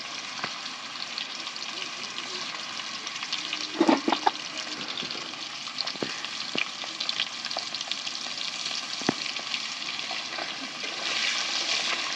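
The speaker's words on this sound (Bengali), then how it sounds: "লবণ আর হলুদ দিয়ে ভালো করে ভেজে নেব।" Plantains and potatoes frying in a pan with salt and turmeric, a continuous crackling sizzle with occasional stirring scrapes and clinks, close and fairly steady, growing slightly hissier toward the end.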